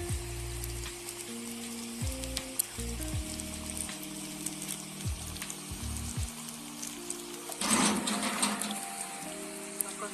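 Mathri dough frying in hot oil, a steady dense sizzle and crackle with tonal music playing over it, swelling into a louder burst of bubbling near the end.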